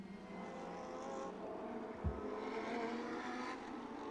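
Lamborghini Super Trofeo race car circuit racing at Inje, a distant steady engine drone with a faint low thump, heard from far off without commentary.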